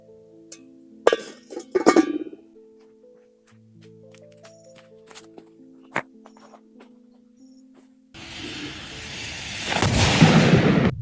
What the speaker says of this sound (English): Handmade triple XL firecracker versus big pot.